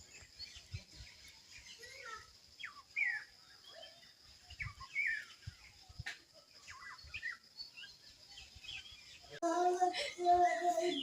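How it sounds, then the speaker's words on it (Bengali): Faint, scattered bird calls chirp in a quiet outdoor setting, and a person starts talking near the end. "তাহলে শুনতে পাওয়া যাবে পাখির ডাকগুলো"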